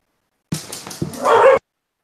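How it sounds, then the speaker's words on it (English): A dog barks and yips excitedly in the background of an online webinar, with two quick bursts followed by a longer whiny bark, close and fairly loud, then silence. "I have a dog going crazy here."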